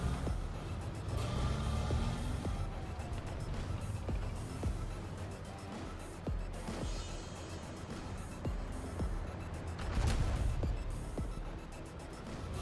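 Tank engines and other armoured vehicles rumble in War Thunder, a Challenger Mk 2 among them, a constant low droning mix of motors and tracks with scattered faint clanks and a brief surge near the end.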